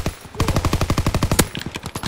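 Rapid automatic gunfire rattles in a World War II video game, a close, loud burst of evenly spaced shots lasting under two seconds, followed by a few scattered shots.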